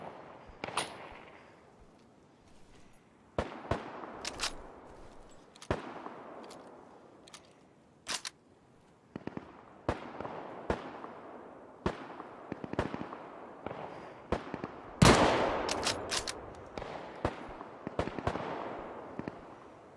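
Gunfire in the video game Deadside comes as repeated sharp single shots and short bursts, some near and loud, others more distant, scattered across a long firefight.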